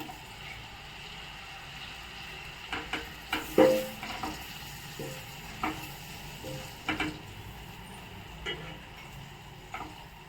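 Onion and mushroom frying in butter give a faint sizzle, with intermittent clinks and scrapes of a spoon stirring the pan nearby.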